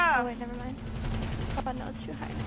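Rapid gunfire from mounted turrets rattles in the GTA heist game, with bursts of shots under a steady tonal hum and some background voice chatter.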